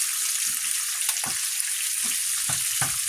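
Thin bacon strips frying in a pan give a steady, dense sizzle and crackle, close and fairly loud, with a few soft clunks and stirring bumps scattered through it.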